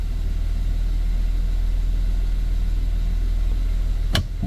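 A 2011-2017 Honda Odyssey minivan engine rumbles steadily and close while the transmission is shifted between drive and reverse, with a brief click near the end.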